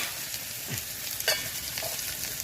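A steady sizzle of cumin and chilies frying in a pan, with occasional scraping and clinking as a spoon stirs them, close and moderately loud.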